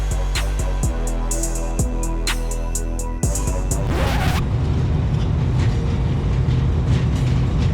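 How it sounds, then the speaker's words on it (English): A freight train rolls in with rhythmic clickety-clack from its wagons, then a brief squeal and a steady, heavy rumble. "Train's arrived"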